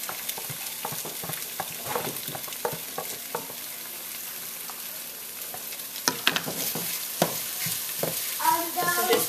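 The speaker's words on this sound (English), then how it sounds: "we're going to add 2 eggs that we have scrambled. And we're going to just fully cook that." Beaten eggs cook in a pan with gobo tempura and char siu for chow fun, producing a continuous soft sizzle under repeated scraping and tapping of the spatula, growing busier toward the end.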